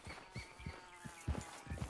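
A pony's hooves clip-clop in the Western video game Red Dead Online, a faint, steady walking rhythm of soft thuds over a quiet ambient background, with no speech.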